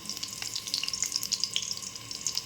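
Torn dried red chillies and a bay leaf hit hot oil in a kadai, giving a dense crackling sizzle with rapid pops, close and steady, with no talking.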